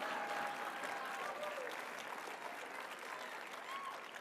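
A conference audience at CPAC 2019 claps loudly and steadily throughout, slowly tapering toward the end.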